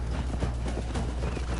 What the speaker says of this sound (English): I'm on a horse. You're on foot.